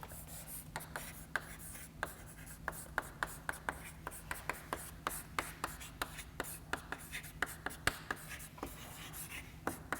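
Chalk or a pen taps and scratches in steady rhythm during a statistics lecture, many short sharp strokes over a low constant hum, with no talking.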